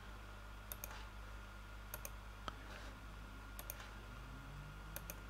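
Soft computer mouse clicks, arriving in quick pairs about once every second or so, faint and close against a steady low hum of the room and machine, with no voices.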